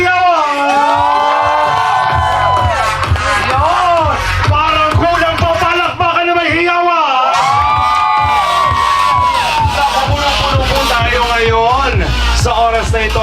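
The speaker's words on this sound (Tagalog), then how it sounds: "simulan natin yung palakpakan na may hiyawan!" Guests at a 16th birthday celebration cheer, whoop and clap loudly together, children's shouts and high squeals mixing into a dense, lively roar that continues throughout.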